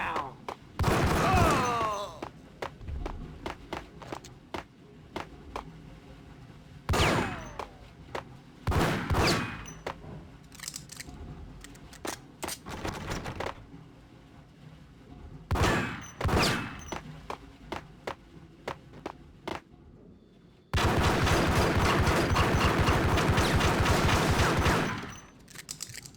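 Gunfire in Max Payne: scattered loud shots and short bursts ring out in separate clusters with gaps between, followed by a sustained stretch of rapid automatic fire near the end, with bits of voice in between.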